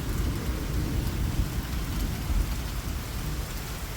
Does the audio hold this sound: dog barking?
no